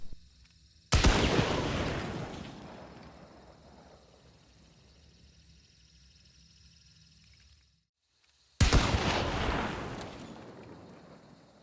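Two loud Romero 77 shotgun blasts from Hunt: Showdown, the first with a long decaying rumble and tail, the second after a brief silence, no voices.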